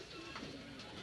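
Faint, soft cooing rises from domestic pigeons with eggs and chicks on a cane nesting shelf, a quiet murmur close by.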